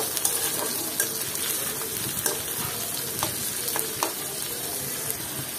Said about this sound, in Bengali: আর এখন পেঁয়াজের সাথে চিংড়ি মাছটা আমি ভালো মতো ভেজে নিব।